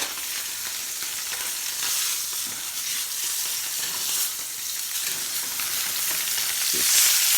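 Sous vide pork tenderloin sears hard in a hot pan, a steady loud sizzle filling the whole stretch with crackling spatter and no voices.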